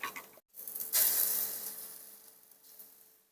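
Ginger garlic paste sizzles in a pan of fried onions. After a brief silent gap, a moderate crackling sizzle rises, then gradually fades and thins over a couple of seconds.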